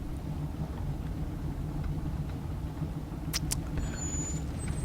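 A car rumbles along in The Walking Dead Season 2 video game, driven roughly, with a steady low engine drone throughout and a couple of sharp clicks near the end.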